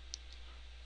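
A single quiet, sharp click of a calculator button being pressed, alone against a faint steady hum.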